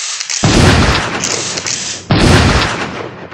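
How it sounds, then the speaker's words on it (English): Two loud shotgun blasts from a sound effect pack for double-barrel and pump-action shotguns, each a sharp close crack with a heavy boom that decays over about a second and a half. "the effects included can be used with both double barrel and pump action shotguns"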